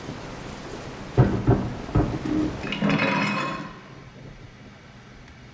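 Thunder rumbles through a storm in the horror video game Resident Evil 7, with a couple of sharp cracks followed by a broad rolling swell over steady rain, then fading back to quiet rainfall.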